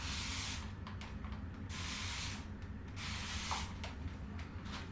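PAA Oud Spice perfume sprayed from an atomizer, several sharp close hissing bursts in quick succession with short pauses between, no talking.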